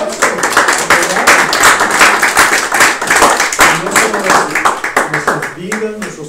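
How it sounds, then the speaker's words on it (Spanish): A church congregation claps during a Spanish-language sermon, a lively patter of many hands with some distinct rhythmic claps, voices calling out beneath it, tapering near the end. "Amén, denle un aplauso, ¿verdad?"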